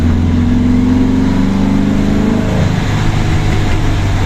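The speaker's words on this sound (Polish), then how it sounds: "to jest ryk gaźników" A classic car engine fed by twin-choke Weber carburetors roars loudly and close at a Warsaw youngtimer show, a dense sustained growl with a falling rev tone partway through, no talk over it.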